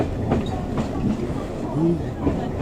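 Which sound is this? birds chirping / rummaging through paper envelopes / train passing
train passing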